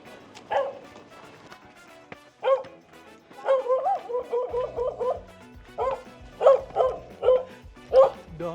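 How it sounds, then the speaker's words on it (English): A dog barks repeatedly in short yapping bursts, some spaced and some in quick runs, mixed with whimpering yips, heard close and alone with no talk. "Dog is not happy to see us."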